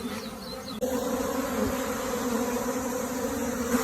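Japanese honeybees buzz loudly at the hive entrance as a colony prepares to swarm, a dense, steady droning hum of many wings that swells suddenly and holds close and continuous.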